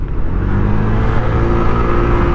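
A Honda ADV160 scooter fitted with a new CVT accelerates on a light throttle, giving a loud, steady engine drone with a rising whirring tone, close and without speech.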